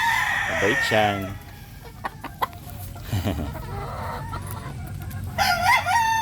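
A Butcher gamefowl rooster crows loudly and close by, with one crow near the start and another at the end, and a few clucks in between. A person speaks briefly over it.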